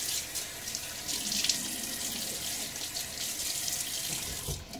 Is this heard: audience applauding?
no